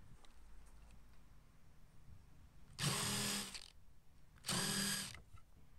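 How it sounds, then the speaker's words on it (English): Two short bursts of a power drill pre-drilling screw holes into wood, each about a second long, close up with quiet pauses between. "Pre-drill that out."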